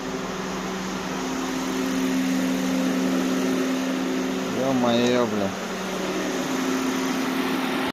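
Hybrid car engine running during an antifreeze change, a steady low mechanical hum with a fan-like whir throughout, briefly rising around the middle; a man mutters over it.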